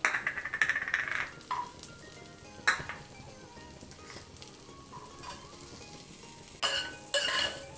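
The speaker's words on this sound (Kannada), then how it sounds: "ಚೆನ್ನಾಗಿ ಬಾಡಿಸ್ಕೊಳ್ಬೇಕು ಎಲ್ಲವನ್ನು" Vegetables for a simple pulao are sautéed in a pan, with irregular scraping strokes of a spatula, occasional metallic clinks against the pan and a soft sizzle underneath, moderately quiet and close.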